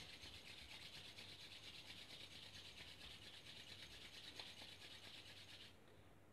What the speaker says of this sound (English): Gently join your palms, rub your palms. Create some heat.